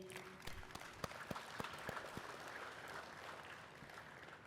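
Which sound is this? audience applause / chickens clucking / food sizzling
audience applause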